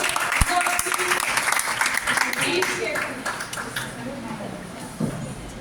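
College audience at a mehndi design certificate prize distribution applauding a student speaker, a round of clapping with a few sharp close claps that thins out toward the end while voices talk over it.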